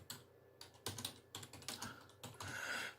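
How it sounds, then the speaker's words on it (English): Keystrokes on a computer keyboard typing a short greeting into a digital radio chat window, heard as several close, crisp bursts of clicks in an uneven rhythm, with no talking. "Underneath type hello."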